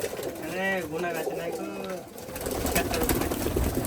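Pakistani flying pigeons in a loft coo close by in soft, repeated throaty calls, followed by a burst of noisy fluttering and rustling.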